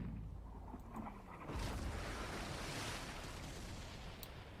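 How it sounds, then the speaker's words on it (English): Cannon fire from a harbor in a pirate Dungeons & Dragons roleplaying scene, a deep boom rising out of a low roaring background that stays broad and rumbling, like distant blasts over surf. "you hear the unmistakable sound of cannon fire coming from the direction of the harbor"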